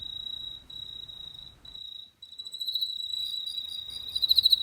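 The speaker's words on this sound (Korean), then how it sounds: "우리나라 귀뚜라미 중에 가장 소리가 예쁜 왕 귀뚜라미예요." A clear, bell-like king cricket chirp rings steadily in close trills, briefly pausing, then swelling louder with brighter pulses toward the end over a faint low rumble.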